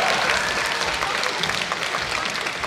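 Audience applause for a magician at a Chinese New Year gala in Seattle, a sustained dense clapping from a crowd that fills the whole stretch evenly and loudly.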